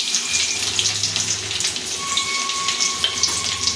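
Nigella seeds and chopped garlic sizzling in hot mustard oil, a close, steady crackling hiss with fine spattering pops and no voices.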